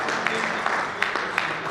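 Audience at an anniversary celebration for the business Atifresh Anmol clapping, a steady patter of hands with a few sharper claps standing out, fairly close and without a break.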